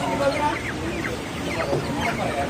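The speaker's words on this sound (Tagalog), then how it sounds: "Anong klaseng manok to?" Several live native chickens cluck and chatter close by at a poultry market in Jeddah, a busy overlapping flock, with a voice speaking beneath them.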